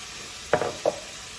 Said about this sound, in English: So we've got our nice warm olive oil in there. In go those onions.